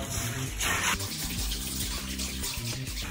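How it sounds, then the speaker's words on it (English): Water runs steadily from a tap to rinse a greasy kitchen range hood exhaust filter, giving a loud, continuous splashing rush with small shifts in the flow. "we're probably gonna have to give it a rinse and give it another run"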